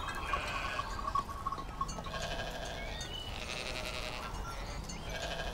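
Sheep bleat several times in a rural field setting, the calls mid-level and fairly close, layered over steady outdoor ambience with no speech.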